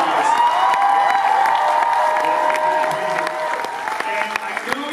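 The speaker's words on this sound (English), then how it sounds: "Give them a big round of applause, Aaron." A large crowd applauds and cheers steadily for contestants at the New York Comic Con 2016 Eastern Championships of Cosplay, a dense continuous clapping wash with occasional whoops that eases slightly toward the end.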